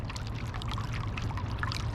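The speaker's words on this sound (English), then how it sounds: "I love the sounds of fountains." A small indoor mall fountain, with water running up a PVC pipe set in a big concrete pot, gives a steady close splashing and pouring with bubbly trickles on top.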